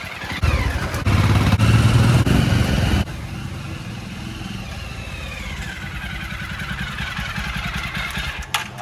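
A Jawa 42 motorcycle engine started after four months unused, revving loudly at first and then settling into a steady, close thumping idle with no talk.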